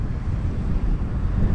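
Steady wind rushing past the microphone on a lakeshore in winter, with ice along the shore, a continuous low buffeting roar that stays loud and close throughout with no voices.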